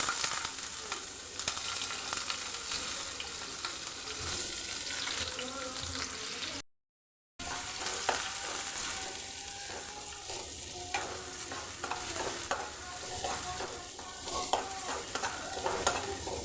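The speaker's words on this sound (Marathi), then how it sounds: "कांदा आपल्याला चांगला लाल होतोपर्यंत परतून घ्यायचा आहे" Chopped onion and cumin seeds sizzle in a pan with a steady frying hiss, broken by a short gap and by occasional stirring scrapes.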